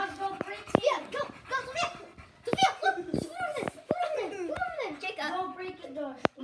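Dogs at home making excited noise amid children's chatter and laughter, with sharp short bursts scattered throughout over lively overlapping voices.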